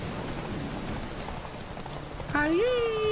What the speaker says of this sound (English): It is raining like a motherfucker and no one even cares.